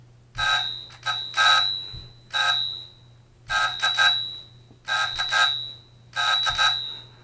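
A telegraph test bell rings in several short bursts of rapid metallic clanging separated by brief pauses, loud and close over a low steady hum.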